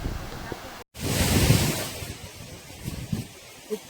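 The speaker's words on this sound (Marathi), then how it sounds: "खूप सुंदर असा धबधबा आहे हा." Rushing water from the large Mahuli waterfall makes a broad, steady roar, dropping out briefly near the start, then swelling strong and continuous with some wind buffeting on the microphone.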